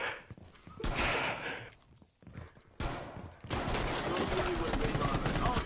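Video game gunfire, with bursts of rapid shots and loud cracks broken by short pauses, then a sustained barrage toward the end, mixed with game noise.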